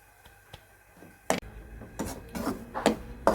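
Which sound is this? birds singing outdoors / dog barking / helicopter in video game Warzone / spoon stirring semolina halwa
spoon stirring semolina halwa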